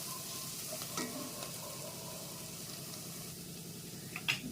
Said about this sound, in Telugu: కొంచెం తెల్లగడ్డ గోల్డెన్ కలర్ వచ్చే వరకు ఫ్రై చేసుకొని మళ్ళీ వేద్దాము ఎండుమిరపకాయ.